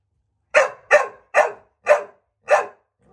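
A dog barks five times in a sharp, evenly spaced series, loud and close with silence between barks, on a walk during dog training outdoors in the wilderness.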